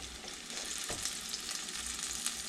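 Buffalo wing pork loin nuggets, dried before cooking, frying in hot oil with a steady, moderate sizzle and crackle that holds evenly throughout, with no voices.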